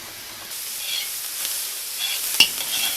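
A spoon stirs grated tomatoes with a tablespoon of sugar for an old-style Czechoslovak minced-meat soup, scraping softly over a steady hiss of a sautéing base, with one sharp clink near the end; no talk.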